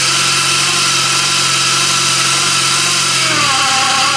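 A supercharged R53 Mini Cooper engine idling close by, a steady loud hum with whining supercharger tones, whose pitch and note change noticeably near the end as the idle shifts.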